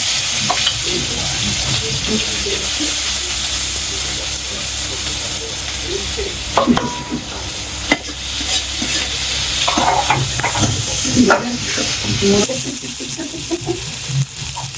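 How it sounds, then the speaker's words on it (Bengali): Onions fry loudly in hot oil with a dense continuous sizzle and hiss, broken by several scraping stirs and clanks of a utensil, with a voice briefly audible in the background. "তেলের মাঝে যে পেঁয়াজ ছেড়া দিই"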